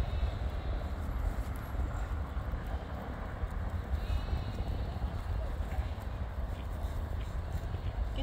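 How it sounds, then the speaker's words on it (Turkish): Sheep bleat in an open field during a Sunday walk in Germany, faint calls rising over steady wind and distant aircraft rumble, with people talking nearby. "Koyunları gördük."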